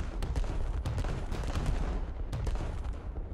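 Battleship main guns firing shells in a naval video game, with repeated heavy booms in quick succession over a dense rumbling bed of continuous battle noise, loud and close, with no voices.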